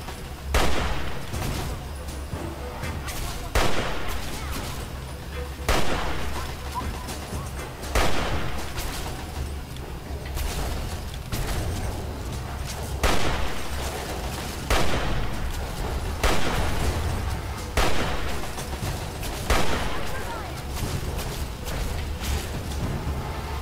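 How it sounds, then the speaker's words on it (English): Rifle gunfire in the video game Fallout 3, loud repeated shots at irregular intervals every couple of seconds over a constant rumbling game background, with sharp reports throughout. "Now we'll just shoot at him with this rifle."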